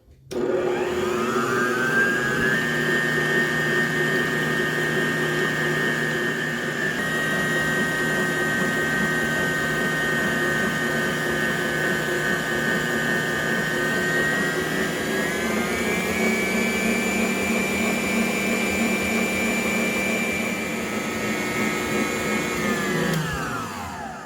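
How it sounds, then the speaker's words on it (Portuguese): A planetary stand mixer beats batter for a pineapple and coconut cake, a loud, continuous high whine that shifts pitch slightly as the speed changes and runs unbroken for over twenty seconds before winding down. "A batedeira planetária, ela é muito mais rápida, então não precisa bater tanto tempo quanto a comum"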